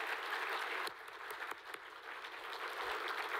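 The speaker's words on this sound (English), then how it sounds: "Can we have a round of applause for all of the scholarship awardees?" An audience at the Pioneer Breakfast 2024 applauds scholarship awardees, soft steady clapping heard from a distance with a few sharper claps standing out.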